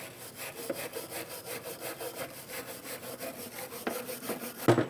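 Brisk back-and-forth scrubbing on a BMW X1 brake caliper bracket where the pads sit, probably with a wire brush, in a steady rhythmic stroke pattern close up, ending with a sharper clack, no talking.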